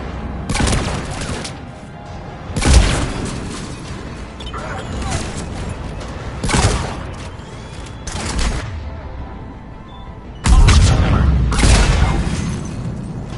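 Heavy cannons boom in a Mass Effect 3 Legendary Edition battle, a few big, spaced blasts each rolling into a loud rumble amid constant combat noise, with voices talking over it.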